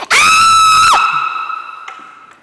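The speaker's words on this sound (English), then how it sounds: "I can scream" A single loud, piercing human scream, held for nearly a second and then cut off, leaving a long echoing ring that fades in a reverberant room.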